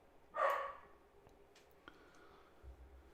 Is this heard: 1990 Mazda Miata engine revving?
no